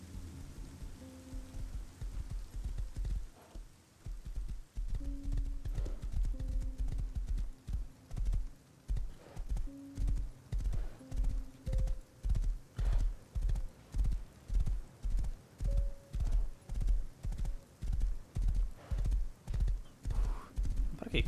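Horse hooves clip-clop in the video game Rust, a steady, evenly spaced run of loud, close hoofbeats that carries on for over ten seconds after a stretch of softer movement.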